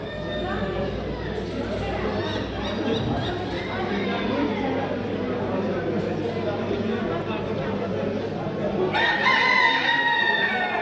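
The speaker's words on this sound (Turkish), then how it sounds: "Burada bir tane de horoz var arkadaşlar." A champion rooster at a poultry fair crows amid a busy, steady crowd murmur, with other fowl calling and a brighter burst of crowing near the end.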